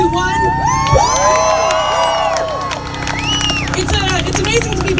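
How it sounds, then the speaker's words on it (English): Crowd cheering at a rally of patriots in Berkeley, a dense, continuous roar of shouts and whoops with high excited voices rising over it, close and loud throughout, with some scattered clapping. "Everyone give a loud cheer for everyone who was there"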